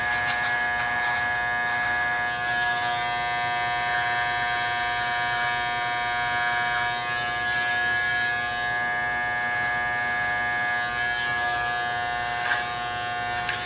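A close electric peanut trimmer buzzes steadily during a flattop haircut, a loud, even whine that runs without a break, with only a slight change near the end.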